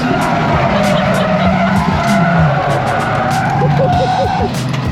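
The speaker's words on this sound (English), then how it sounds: "Sliding sideways around Combe at God knows what speed is something I'll never forget." A race car's engine roars loudly as tires skid and squeal through a long slide around Combe corner at Castle Combe Circuit, with voices talking over the din.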